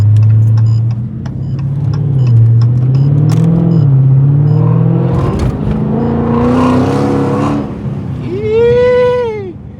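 A straight-piped 2020 Dodge Charger Scat Pack V8 roars loudly and close up, its revs climbing and dropping through several pulls, with one sharp rev surge near the end and only brief voices around it.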